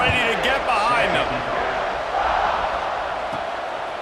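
Stadium crowd noise at kickoff in a college football video game, a broad steady roar with shouting voices close by, loudest at the start and easing slightly over a few seconds.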